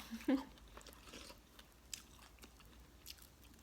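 Someone eats reheated Thai fried fish cakes (tod man), with a close, soft bite at the start followed by faint, sporadic chewing and crunching in a quiet room.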